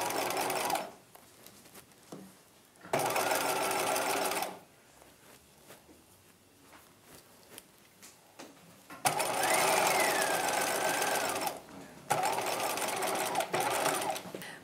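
A sewing machine stitching the front princess seam of a bodice lining for a 1950s halter dress, running in three bursts of steady whirring separated by quieter pauses with handling noises.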